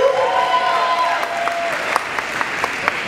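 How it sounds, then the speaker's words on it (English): Audience applause for novice standard ballroom dance finalists at a competition, a steady sustained wash of many hands clapping with a few sharper claps standing out; a faint voice trails off at the start. "let's give these finalists a round of applause"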